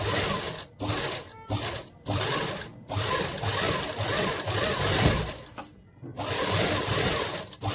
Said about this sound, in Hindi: अस्तर को नीचे की तरफ ½ इंच मैं उल्टी साइड से स्टिचिंग लगाऊंगी